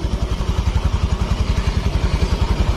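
A Honda Vario FI scooter engine runs steadily after a compression leak repair, giving a loud, close, even putter with a regular rhythmic pulse and light mechanical clatter, no talk over it.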